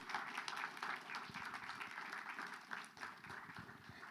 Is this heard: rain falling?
no